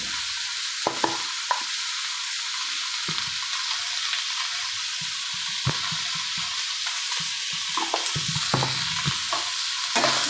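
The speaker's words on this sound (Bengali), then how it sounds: "একটু নাড়াচাড়া করে নেব।" A spoon stirs salt and turmeric around a hot cooking pan, giving a steady frying sizzle with repeated scraping strokes throughout, close and fairly loud, with no talking.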